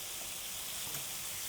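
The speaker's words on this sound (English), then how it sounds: "And that's cooking that salmon really evenly" Salmon sizzles steadily in a frying pan as it is stirred and kept moving, a continuous close hiss of frying with faint scraping underneath.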